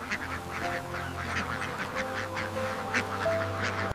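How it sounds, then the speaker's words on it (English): Khaki Campbell ducks at a duck-rearing farm quacking in a rapid, overlapping chorus over a steady low mechanical hum, moderately close and fairly quiet. "khaki Campbell ducks are cared for in a clean, safe, and nutritious environment"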